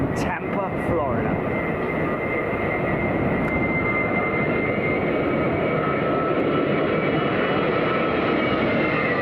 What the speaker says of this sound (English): Virgin Atlantic A330-9 from Tampa,